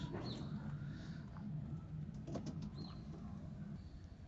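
Homing pigeons in a breeding loft coo softly and shuffle over a steady low background hum, with occasional faint wing flutters nearby.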